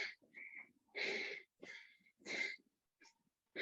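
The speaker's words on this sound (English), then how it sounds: "Still managing to get big breaths in, which is good." Heavy, labored breaths from a rider pushing hard on an indoor bike while climbing Alpe du Zwift, in close bursts of loud panting and wheezy exhales separated by short pauses.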